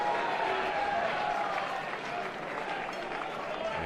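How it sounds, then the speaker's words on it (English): A Georgia home crowd at a college baseball regional game applauds and cheers, a dense, steady wash of clapping and voices that fills the whole stretch with little rise or fall. "Georgia crowd comes alive"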